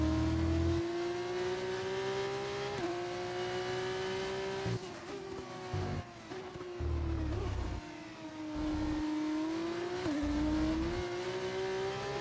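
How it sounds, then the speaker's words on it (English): An F2 car's V8 engine in the racing game F1 25 revs high and steady, pitch rising and dipping through shifts and corners, loud and close with brief tire scrub and no voices. "Well, that's because that's the V8 engine you're hearing."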